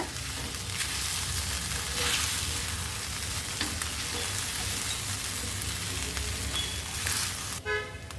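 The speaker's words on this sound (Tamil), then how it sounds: "ஏன்னா ஜவ்வரிசி உடனே அடி பிடிக்க பார்க்கும். கொஞ்சம் கைவிடாமல் கிண்டிக்கோங்க." Sago (tapioca pearls) cooking in a pan on low heat, giving a steady, close broadband sizzle with scraping from constant stirring, plus a brief clatter near the end.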